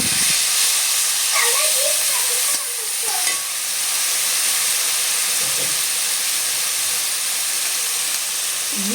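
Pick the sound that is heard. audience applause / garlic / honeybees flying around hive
garlic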